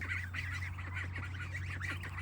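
Young goslings and ducklings on a farm call in a continuous overlapping chorus of reedy honks and peeps, close and steady over a low constant hum, with no talking.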